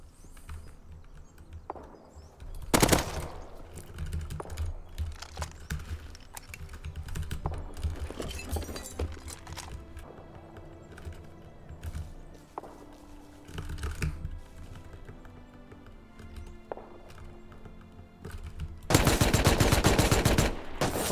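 Gunfire in the survival video game Rust comes in a short burst early and a sustained rapid volley at the end, loud and close, with keyboard clatter and game sounds in between.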